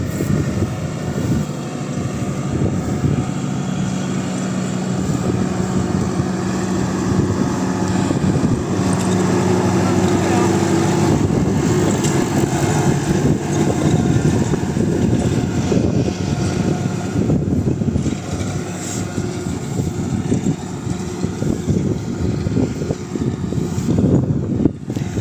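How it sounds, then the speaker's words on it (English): A McCormick CX95 tractor runs while ploughing a field, its engine a continuous, steady droning hum with a tonal rumble and some wind buffeting the microphone, holding at a fairly constant loudness for about twenty-five seconds with no talking. "I've never seen her driving the tractor before."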